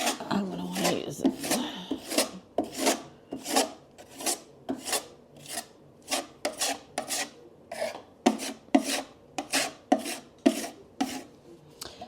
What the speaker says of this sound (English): it's like scraping off the paint